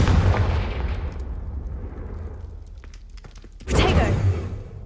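A Confringo fire-spell explosion in Hogwarts Legacy opens with a loud booming blast that fades into a rumbling tail, and a second sharp burst follows near the end.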